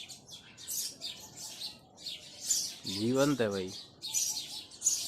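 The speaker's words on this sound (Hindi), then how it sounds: "ये सब जगह इनके घोंसले हैं और ये इतना चहचहा रही हैं" Small birds nesting in the cracks of an old historic fort's walls chirp in repeated bright bursts throughout, with someone speaking briefly partway through.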